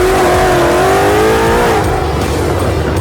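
Race car from Vengeance Racing accelerating hard on a track, a loud close engine roar with a rising whine that climbs steadily and then levels into a sustained drone, with no talking.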